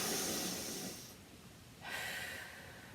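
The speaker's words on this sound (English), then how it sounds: "we're just going to do some deep breathing" Slow, deep breaths drawn in through the nose during a Pilates breathing exercise, one long soft airy inhale that fades, a pause, then another breath starting, close and quiet.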